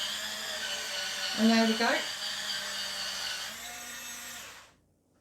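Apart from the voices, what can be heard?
electric scrubber brush scrubbing a surface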